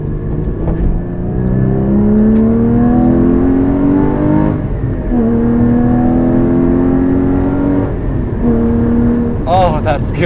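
Porsche Cayman GT4 engine revving hard under acceleration, pitch climbing then dropping with each of several quick gear shifts, loud and close, with people talking over it.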